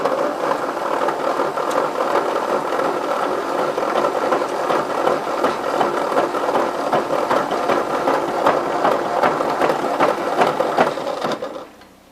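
A 1953 Ford Jubilee tractor's starter cranks the engine steadily for about eleven seconds, a loud, close mechanical whirring with rapid rhythmic pulses and a grinding edge, then stops abruptly.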